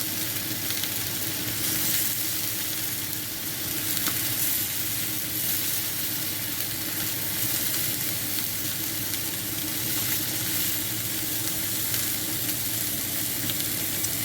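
Sausages fry in a pan for a one-pan cooked breakfast, giving a continuous, even sizzle and crackle of hot fat that stays close and steady throughout with no talking.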